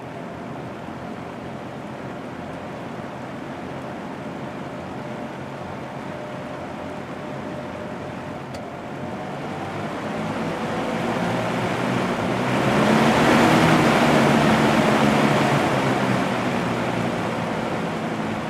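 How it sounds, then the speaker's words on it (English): Steady broadband whoosh and low motor hum of a vintage Sears box fan running, close and constant, swelling louder partway through with a faint whine riding on top. "It has a really loud motor hum. So, or I guess I would say motor whine."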